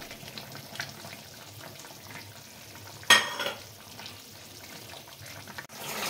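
Prawns and water are added to cooked-down masala in a pan for a Bengali prawn curry with ridge gourd and potato. A low sizzle and stirring run throughout, broken by a brief sharp splash midway.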